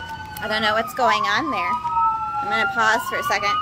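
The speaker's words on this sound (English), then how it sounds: "I'm sorry for the sirens." A siren wails and warbles nearby, rising and falling continuously while a person talks over it.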